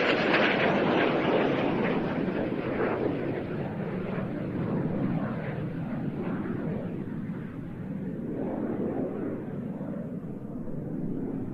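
Leonardo M-346 Master jet trainer performing a flying display at an airshow, its engine a loud, steady roar heard from a distance that swells and fades slightly as it manoeuvres, with no talking.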